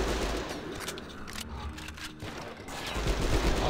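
Shotgun blasts in the video game Hunter: The Reckoning, loud booming bursts with a noisy game backdrop between them, no speech.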